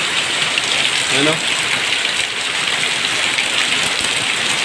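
Heavy rain pours steadily during Typhoon Carina amid street flooding, a dense continuous hiss of rainfall on surfaces, with a brief voice speaking over it.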